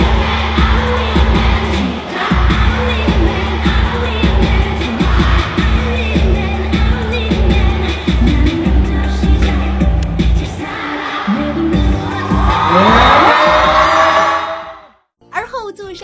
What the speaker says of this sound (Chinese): 让全场尖叫声一片。